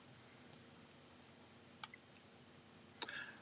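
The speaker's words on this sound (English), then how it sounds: "Start the Arduino software by clicking on this icon." Computer mouse clicking on a laptop while starting the Arduino software: a few sharp, quiet clicks spaced irregularly, with a slightly louder double click near the end, close and faint against a quiet background.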